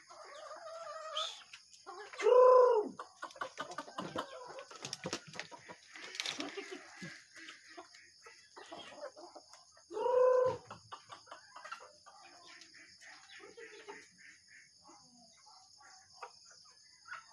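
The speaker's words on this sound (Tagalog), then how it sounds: "papakain po tayo ng ating alagang mga manok." Pet chickens cluck and squawk softly while being fed outdoors, scattered calls with two louder bursts against a steady insect chirr, with no voices.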